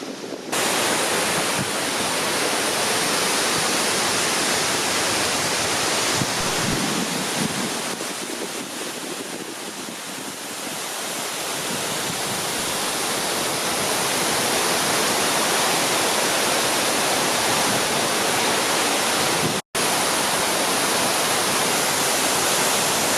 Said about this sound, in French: nous voici quasiment au pied de la cascade.